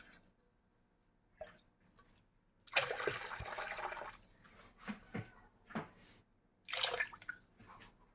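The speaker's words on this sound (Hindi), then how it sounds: "इसमें अभी और मैं थोड़ा सा पानी मिक्स करूँगी।" Water splashes in a short pour into lassi for Sindhi pakora curry, followed by intermittent sloshing and dripping as the mixture is stirred, then another brief pour.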